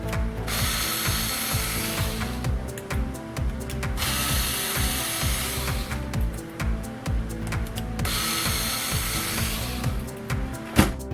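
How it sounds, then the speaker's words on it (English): A ratcheting screwdriver clicks in rapid bursts while screws are backed out of the bottom of a Traxxas Slash 2WD RC car chassis. Several bursts of dense clicking are separated by brief pauses, close and clear. "I gotta pull my screws out from the bottom here"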